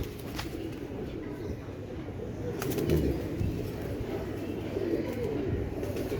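Chaudry Sahab breed Teddy pigeons, an old breed, coo nearby in a low, continuous murmur of overlapping throaty calls, with a few soft wing sounds and rustles over about six seconds.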